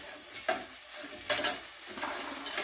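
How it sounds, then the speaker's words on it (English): Beef bouillon sizzles and fries in leftover burger grease in a pan, with soft stirring scrapes and a few louder clinks and sputters standing out over a steady close crackle. "the beef bouillon is cooking in the grease"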